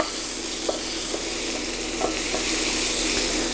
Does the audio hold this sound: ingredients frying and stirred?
yes